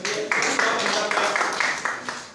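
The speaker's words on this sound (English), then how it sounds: "Clap for these guys" An audience in a photojournalism lecture hall applauds in a dense, continuous wash of clapping that holds steady for a couple of seconds, with a voice speaking over it.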